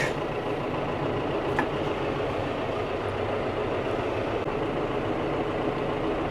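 A John Deere tractor engine runs at a steady, low drone, constant and moderately distant with no pauses.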